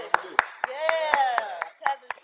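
A series of sharp hand claps, about one every quarter second, close and crisp, with a voice talking over them throughout.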